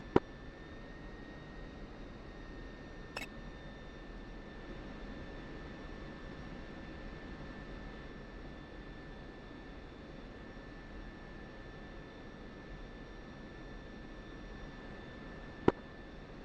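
A military jet in the DCS World flight simulator rolls along the taxiway at night, its engine a steady droning whine and broadband roar with sustained tones and a couple of sharp clicks, no voices.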